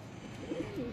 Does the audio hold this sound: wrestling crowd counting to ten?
no